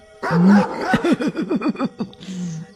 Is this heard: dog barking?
yes